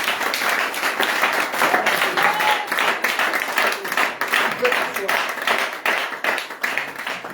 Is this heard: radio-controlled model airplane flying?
no